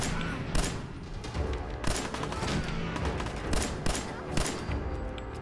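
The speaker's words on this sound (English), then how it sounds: "they're still shooting at each other" Repeated bursts of gunfire from combatants in the Fallout 4 wasteland, loud and sustained, with sharp shots cracking over a steady rumble of battle and no one talking.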